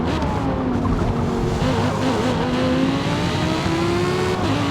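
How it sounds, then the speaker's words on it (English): Audi V10 race car in the Forza Motorsport video game, its engine note climbing steadily through gears with a continuous loud whine, accompanied by occasional tire squeal, no talking. "Plus the Audi, oh yeah, it can turn. And with the V10, it can accelerate."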